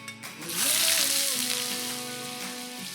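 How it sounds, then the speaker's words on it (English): Butter melting into two tablespoons of hot oil in a pan over medium heat gives a bright, hissing sizzle that swells quickly and then holds steady, close and fairly loud. "In a hot pan over medium heat, add in 2 tablespoons of oil. Then 40 grams of butter."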